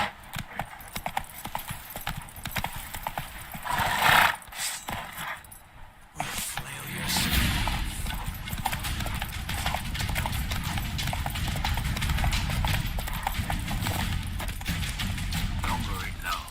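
Roach, a horse in The Witcher 3, gallops in quick rhythmic hoofbeats that run steadily through most of the stretch after a brief burst of clatter and rustle, with muffled voices partly beneath.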